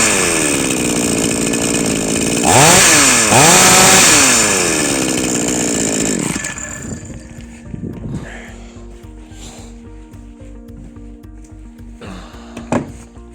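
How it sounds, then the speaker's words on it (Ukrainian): A chainsaw with a newly replaced carburetor runs loud and close, revving up and down in rising and falling surges, then drops to a rough idle with a final brief rev. "Пилка працює."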